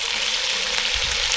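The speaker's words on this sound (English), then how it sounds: "You see that sizzles pretty damn quickly, doesn't it?" Meat sizzles loudly in a hot camp oven over coals, a dense, steady frying hiss heard up close and alone.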